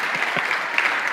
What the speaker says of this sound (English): Please clap hands for me.